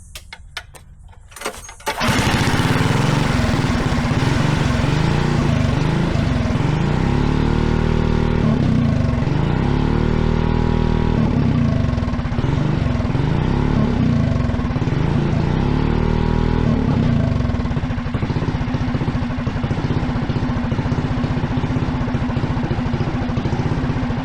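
A GX270 clone engine in a buggy starts after a few seconds and runs loud and close, its rough single-cylinder roar rising and falling with throttle before settling into a steady run.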